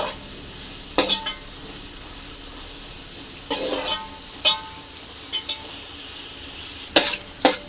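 Vegetables and tomato frying in a kadai for egg fried rice, a steady low sizzle broken by several sharp scraping stirs and clinks of a spatula against the pan.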